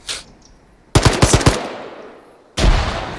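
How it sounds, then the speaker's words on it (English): A rapid burst of automatic gunfire in an Arma 3 firefight with grenades going off, loud and close, followed by a quieter tail and then another heavy blast. "And grenades are going off."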